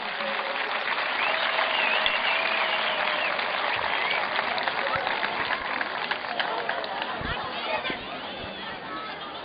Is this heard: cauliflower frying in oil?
no